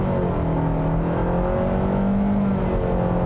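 A front-wheel-drive 2021 Nissan Rogue accelerates hard from a stop, its engine droning loud and steady from inside the cabin with a rising whir and road noise throughout.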